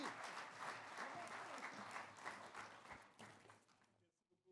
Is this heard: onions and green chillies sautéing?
no